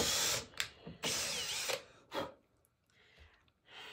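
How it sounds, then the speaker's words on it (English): Several short bursts of a high-pitched drill whine as a tiny bit bores small holes into the edge of hickory cabinet doors, each a second or less, separated by pauses, close and fairly loud. "I'm drilling holes with a tiny little drill bit into the edge of these doors."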